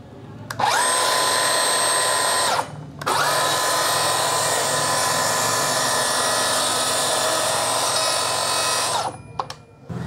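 DeWalt plunge saw spinning up and cutting, a loud continuous high-pitched whine for several seconds with a brief dip partway through, then winding down.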